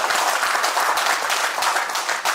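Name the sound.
audience applause at a gala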